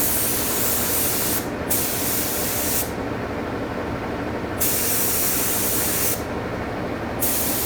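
Spray gun applying paint to a Fox body Mustang, a loud continuous hiss close by, broken by several short pauses where the trigger is released before the spray resumes.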